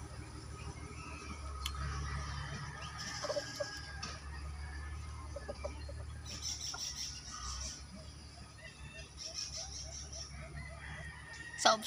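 Chickens cluck and a rooster crows at a rural Filipino farmyard, the birds fairly close and moderate in level against steady outdoor ambience, with scattered calls throughout and a sharper sound at the very end.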